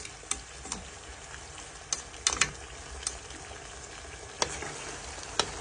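Chicken liver with onions, garlic and ginger frying in a pan, a steady soft sizzle broken by several sharp pops and crackles, close up with no talking.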